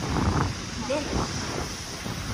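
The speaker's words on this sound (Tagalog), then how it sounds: "Tapos mahangin pa dito guys." Steady wind buffets the microphone in a constant rushing roar, with faint voices muffled underneath.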